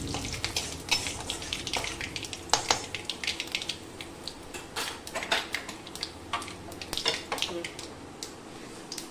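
Magur catfish curry sizzles in a wok with frequent clinks and scrapes of a utensil against the pan, a steady close frying hiss underneath.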